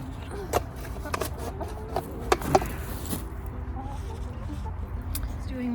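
Chickens cluck softly in a garden, their short calls scattered under a quiet outdoor background, with a few sharp knocks and a voice speaking nearby.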